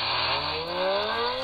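A simulated supercar engine sound effect plays from a Red Magic 8 Pro phone, a steady loud roar with a rising revving pitch, as if accelerating, heard alone.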